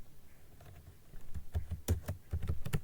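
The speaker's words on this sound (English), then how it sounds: "Now you have to type cd double dot." Typing on a computer keyboard while entering a command, with a run of quiet key taps that grow denser and louder into quick clustered strokes, close and alone.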